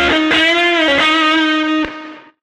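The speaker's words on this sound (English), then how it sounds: "having that overdriven reverb and gate is so cool" Electric guitar through a Safari Pedals plugin's overdriven reverb with a gate, a loud sustained distorted chord re-struck several times, then cut off abruptly by the gate; no talking.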